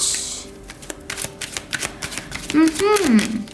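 Tarot cards are shuffled in a dense, rapid riffle of crisp flicks, close and fairly loud, running under a voice that speaks in Hindi and grows prominent toward the end.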